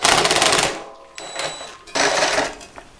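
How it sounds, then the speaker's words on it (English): Metal bolts being worked loose from the seat mounts of a 1965 Honda Dream CA95 motorcycle, giving close, busy ratcheting and clinking bursts with a brief pause midway. "First I got to pull out these two bolts holding the seat on."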